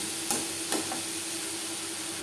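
Yardlong beans with coconut and turmeric are stirred in a pan over a steady sizzle and hiss, with two sharp scrapes of the utensil early on.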